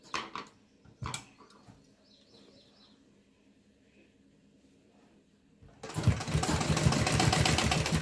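A sewing machine stitching a dhoti salwar starts up after a quiet stretch with faint birdsong and a few knocks, then runs in a steady, fast, close rattling whir to the end.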